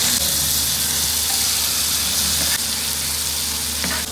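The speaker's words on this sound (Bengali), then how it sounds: "তেল গরম হতে দিয়ে দিলাম চিংড়ি মাছগুলো আস্তে আস্তে করে।" Shrimp frying in hot oil, a loud, dense, steady sizzle throughout with a few faint clinks of stirring.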